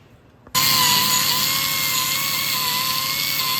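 Power tool whirring steadily as it cleans rust off a Honda Ridgeline rear wheel hub during brake work, starting abruptly after a quiet moment and running loud and continuous without pause.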